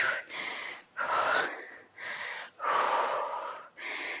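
Heavy breathing after HIIT jump rope exercise at home, with a run of loud, close gasping breaths in a steady rhythm of about six deep inhales and exhales.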